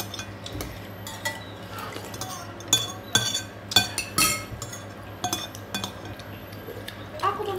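A spoon clinks against dishes at a meal of saksang, sharp metallic taps coming in irregular clusters over a steady low background hum, with people talking nearby.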